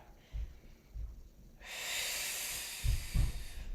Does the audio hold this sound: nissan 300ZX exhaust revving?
no